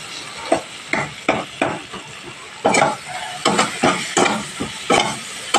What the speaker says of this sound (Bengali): এবার এখানে আমি সর্ষে পোস্তটা দিয়ে দিলাম, দিয়ে ভালোভাবে নাড়াচাড়া করে নিতে হবে।